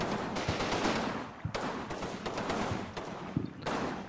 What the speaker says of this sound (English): 81mm mortars to fall.